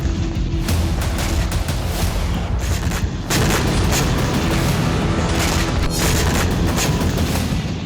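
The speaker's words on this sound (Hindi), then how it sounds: "रूस के इस विस्फोट में यूक्रेन के शहर खंडहर बनते जा रहे हैं" Heavy, continuous rumbling blasts with deep booms and crackling bursts, loud and sustained throughout, like explosions and gunfire from a Russian bombardment of Ukrainian cities.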